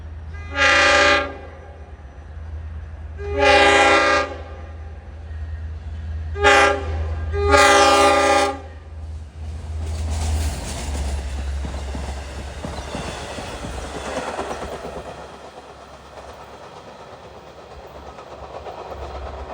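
Four loud, close train horn blasts from a three-car train on the Montauk Branch at Brightwaters, followed by the rumble and rail noise of the train passing by and fading.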